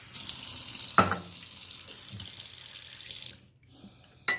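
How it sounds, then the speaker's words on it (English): Tap water runs steadily into a sink while water is added to a mix, a continuous splashing hiss with a couple of sharp clinks, cutting off near the end before a brief final splash. "you gotta add some water to it."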